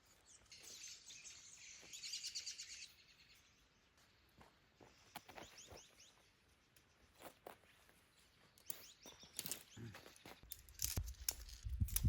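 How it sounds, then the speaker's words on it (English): Birds chirp and call on a snowy morning at a backpacking camp, bright tweets scattered across the clip with shuffling footsteps and rustling nearby, fairly faint overall. "The birds are out, they're chirping."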